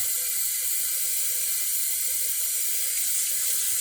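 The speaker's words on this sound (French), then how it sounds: "Je suis en train de prendre de l'eau à la pompe." Water drawn from a hand pump outdoors for cooking rice, a steady loud hissing gush that runs without pause.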